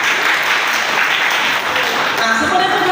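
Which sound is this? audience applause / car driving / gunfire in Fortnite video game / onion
audience applause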